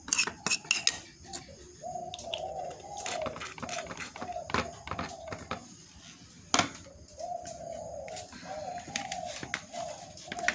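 A spoon clinks and scrapes repeatedly inside a container while a homemade shrimp-paste pest spray for a cha-om garden is stirred and mixed, with irregular close knocks and scrapes and a faint hum in the background.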